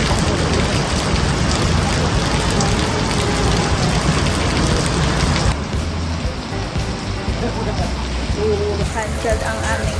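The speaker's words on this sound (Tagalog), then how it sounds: "It's raining in General Luna." Steady rain falls in General Luna on Siargao island, a dense continuous hiss of drops on surfaces that stays close and even throughout, easing slightly partway, with no clear voices.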